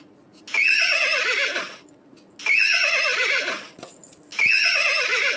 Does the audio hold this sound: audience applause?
no